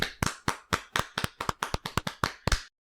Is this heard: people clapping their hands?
yes